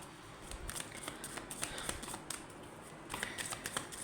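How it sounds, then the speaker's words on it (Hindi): Tarot cards being shuffled and drawn for a love reading, producing rapid papery riffles and flicks in clustered bursts, close and fairly soft, with no talking. "समर, कार्ड्स निकाल लेंगे पहले, फिर बताते हैं आपको।"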